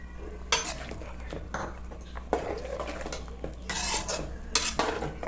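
A metal spoon stirs mutton kuzhambu curry in a pot, giving several bursts of scraping and clinking against the metal with brief pauses between strokes.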